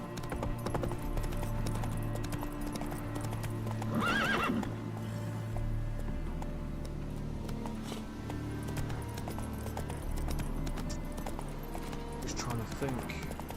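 Roach, the horse in The Witcher 3 video game, whinnies loudly near the middle, while steady hoof clip-clops continue throughout over game music, and a person talks at points.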